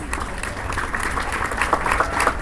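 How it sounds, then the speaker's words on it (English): An audience applauds MFM graduates at a graduation ceremony, a steady wash of many hands clapping at moderate distance, continuous and even throughout. "Please give a warm applause to the MFM graduates."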